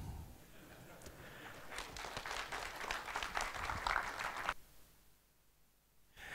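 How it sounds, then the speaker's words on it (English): Spontaneous applause from a conference audience at the opening of a Java developer event, building to a dense clatter of clapping for a few seconds before cutting off into near silence. "Thank you for that spontaneous applause."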